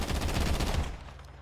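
Rapid bursts of automatic gunfire in a video game, loud, close and punchy for about a second before fading out, with no talk.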